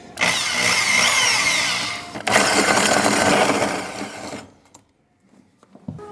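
A power drill boring a hole through a floor whirs loudly in two sustained bursts with a brief pause between, grinding and whining, then stops, leaving near silence and a faint knock.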